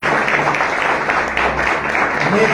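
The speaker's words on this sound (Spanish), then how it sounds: "Denle un aplauso al Señor, déselo fuerte" Congregation in a church giving loud sustained applause to the Lord, a dense continuous wash of many hands clapping close and steady throughout, with voices mixed in.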